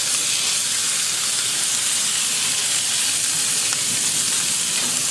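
Steak searing on a Kamado Big Joe griddle over lump charcoal, giving a loud, steady, unbroken sizzle and hiss that holds evenly throughout, with no talking.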